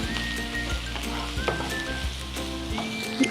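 Prawns hit a hot pan of sautéing ginger and garlic, producing a steady close-up sizzle and crackle of frying, with occasional small stirring clinks and no talking.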